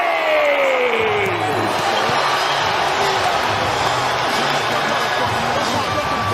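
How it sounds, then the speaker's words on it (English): A sold-out boxing arena crowd buzzes and cheers loudly and continuously, a dense roar filling the space while an announcer's voice talks over it. "This sold-out crowd is on fire. It is buzzing in here"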